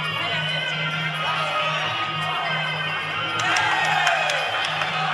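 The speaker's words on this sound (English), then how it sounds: "Crowd absolutely going crazy here at Curtin Stadium, getting right into this one." Crowd at a Muay Thai fight in Curtin Stadium, Perth, a steady roar of cheering that swells near the end, with a commentator talking over it throughout.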